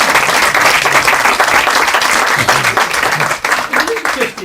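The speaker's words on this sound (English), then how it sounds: "Listen to the applause." An audience applauding during a magician's stage show, a dense burst of clapping that fades unevenly toward the end, with voices talking over it near the close.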